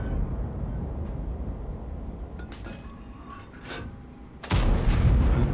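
An artillery round striking near a tank in a strategy video game, with scattered metallic clinks and debris first, then a sudden loud blast that lingers as a rumbling roar.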